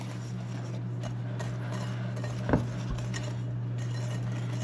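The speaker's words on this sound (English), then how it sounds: "Let's get all the dry stuff mixed together." Dry ingredients for pumpkin bread are stirred in a bowl, soft scraping and light clinks of a utensil against the dish with one sharper knock midway, quiet over a steady background hum.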